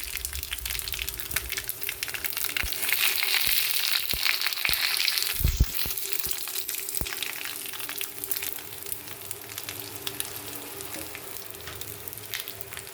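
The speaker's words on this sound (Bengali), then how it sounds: "লঙ্কা ফোড়ন দিয়েছি, তেজপাতা দিয়েছি, জিরে ফোড়ন দিলাম" Dried red chili, bay leaf and cumin seeds tempering in hot oil for a Bengali fish curry give a loud, steady sizzle with fine crackling, swelling into a sharper burst of pops midway before settling back to an even fry.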